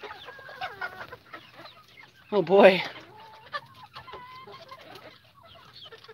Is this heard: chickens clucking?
yes